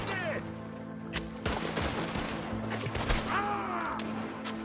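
Gunfire rattles through a Red Dead Redemption 2 shootout as loud, dense volleys of shots crack in quick succession, with short shouts and game noise mixed in.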